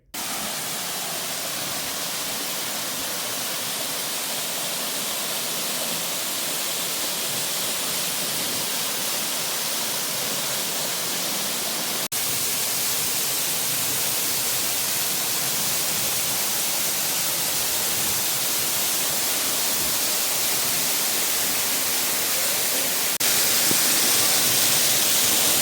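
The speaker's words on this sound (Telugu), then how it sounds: "ఇదే మన ఫస్ట్ వాటర్ ఫాల్స్, దీని పేరు హార్స్ షూ వాటర్ ఫాల్స్" Horseshoe Falls in the Blue Mountains of Australia pour steadily on a rainy day, a dense, unbroken rush of falling water that holds loud and even from start to finish, with no voices over it.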